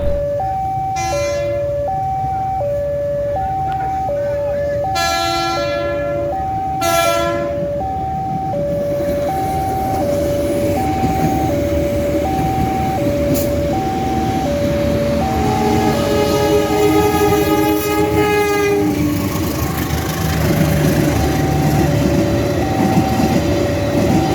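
The Kedung Sepur passenger train rumbles steadily as it arrives at Semarang Tawang station, while tonal horn blasts sound again and again over the continuous roar.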